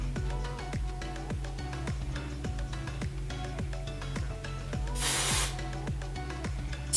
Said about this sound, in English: So I'll spray a little bit more.